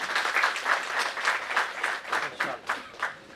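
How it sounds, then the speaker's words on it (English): Brief, fairly quiet audience applause at a budget review talk, a small group clapping in a loose, uneven rhythm with individual claps standing out. "Please give him a huge round of applause"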